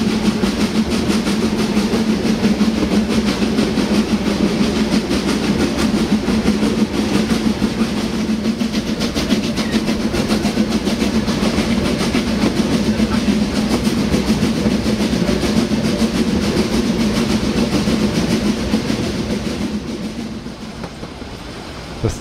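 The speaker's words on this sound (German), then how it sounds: "Bis zum Brechpunkt in 413 Meter Höhe hat die Lok schwer zu arbeiten." A Selketalbahn narrow-gauge steam train labours up the Ramberg toward Gernrode in the Harz, heard from on board as a loud, continuous rumble with rapid rail clatter that eases slightly near the end.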